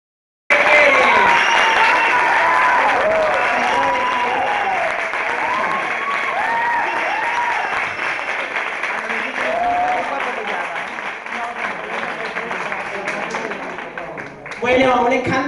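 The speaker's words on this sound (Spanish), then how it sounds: "Quiero que le deje ese fuerte aplauso a esta estrella que nace esta noche aquí, Afrodita." A nightclub audience applauds loudly and continuously for a new drag performer's debut, dense clapping with cheers and whoops rising over it, then a sudden loud burst near the end.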